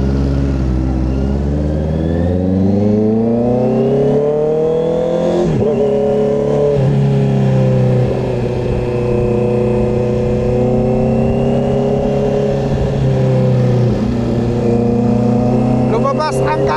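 Honda CB650R inline-four motorcycle with a newly fitted aftermarket exhaust revving up and settling, loud and close, the pitch climbing then holding steady with brief blips; a voice is heard near the end.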